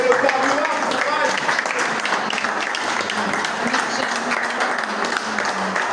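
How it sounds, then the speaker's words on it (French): Applause from an audience at a film screening and cultural debrief, steady and fairly loud across the whole stretch, with voices mixed in under the clapping. "Applaudissez-le, applaudissez-le."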